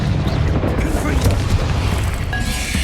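A Confringo explosion spell from Hogwarts Legacy booms with deep, rumbling blasts that fill the soundscape, a continuous heavy roar with crackling bursts, while a voice speaks over it.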